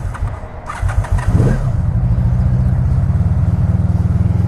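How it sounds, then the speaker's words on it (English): Cold start of a Honda Magna motorcycle engine on choke: a brief cranking whir catches and settles into a steady, loud, rapidly pulsing idle close by, with no talking. "I'm gonna show you guys how good this thing fires up"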